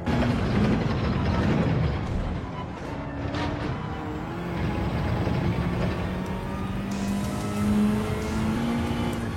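Car driven flat out down the back straight of a race circuit, a steady loud engine drone with rising tonal whine that holds throughout, close and continuous with no talk.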